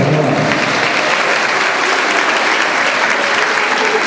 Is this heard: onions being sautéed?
no